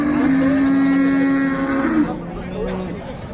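A prized cow lows with one long, loud, steady moo that fades toward the end, at a rural livestock sale in Egypt with a crowd chattering faintly around it.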